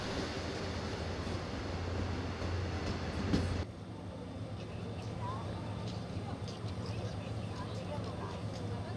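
A Mugunghwa passenger train departs on the Gyeongjeon Line in the early morning, its broad rumble steady and close, with a brief sharp hiss and clank before the noise drops to a lower, continuous rolling hum.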